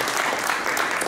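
Dense, steady applause fills a short burst at a preseason press conference of the Tulitsa volleyball club, many hands clapping evenly at a moderate distance with no pause.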